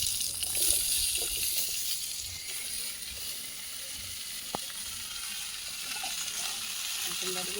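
Chopped ash gourd added to onions frying in a pan and stirred, giving a steady soft sizzling hiss throughout with one sharp utensil click partway.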